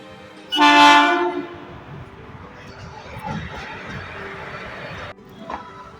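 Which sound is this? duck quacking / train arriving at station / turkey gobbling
train arriving at station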